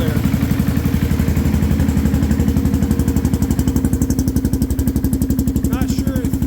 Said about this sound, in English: motor sounds pretty good. Not loud, a little loud on top, but not too horrible